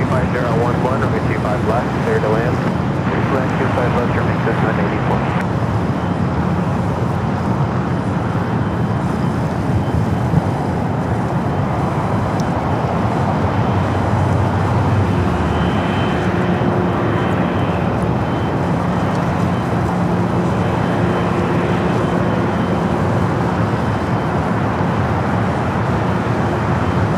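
A Boeing 777-300ER taxiing at LAX airport, a steady broad jet-engine rumble and whine that holds for the whole stretch, with someone talking over it.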